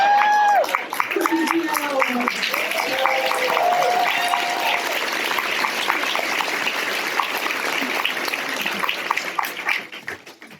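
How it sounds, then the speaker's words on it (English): A conference audience breaks into sustained clapping, dense and loud at first, holding steady, then thinning and fading out near the end, with some voices mixed in. "please clap again"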